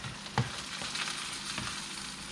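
A big piece of halibut fries steadily in a pan at a campsite, a continuous close sizzle with a brief knock or scrape near the start.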